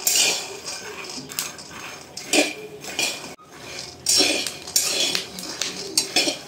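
Peanuts dry-roasting in a pan until crisp for jaggery laddoos, stirred with a utensil that scrapes and clinks against the metal in uneven bursts, fairly close.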